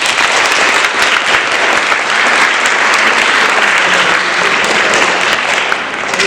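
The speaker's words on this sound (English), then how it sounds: "So round of applause to these students here." Sustained applause from a school audience recognizing English class winners at a poetry recitation semifinal, a steady, dense wash of clapping holding for several seconds before easing slightly at the end.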